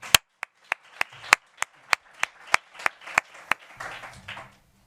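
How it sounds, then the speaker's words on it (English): An audience claps at a public event on local democracy in London, sharp distinct claps at a steady rhythm, fairly close and moderately loud, thinning out toward the end. "So let's give them a massive round of applause."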